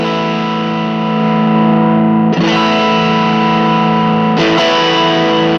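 A distorted electric guitar chord rings out loud and sustained through an overdrive pedal just switched on, restruck twice with a heavy, buzzing tone and no talking.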